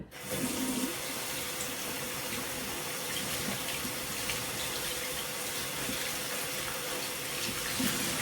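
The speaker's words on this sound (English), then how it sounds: "So now let me wash my hands, or my gloves rather." Water runs steadily from a tap as gloved hands are rinsed under it, a continuous close hissing rush with no talking.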